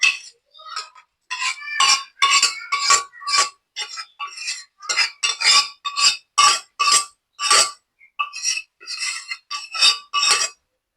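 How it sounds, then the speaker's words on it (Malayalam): Lentils tipped into a pan of taro leaf curry and stirred, giving a run of sharp metallic spoon clinks and scrapes against the pot in an irregular rhythm, close and fairly loud, with no talking. "നമുക്കിതിലേക്ക് പരിപ്പും കൂടെ ചേർത്ത് കൊടുക്കാം താളിലേക്ക് നമുക്ക് പരിപ്പും കൂടെ ചേർത്ത് കൊടുക്കാം"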